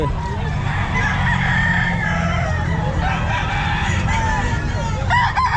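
A rooster crows repeatedly at a busy pet market, its calls rising over steady crowd chatter and clucking fowl throughout.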